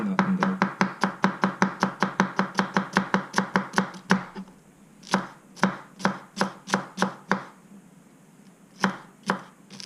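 An AKC knife slices food thinly on a board, sending sharp chops at a quick even rhythm that slow to spaced single cuts, close and crisp, with no talk.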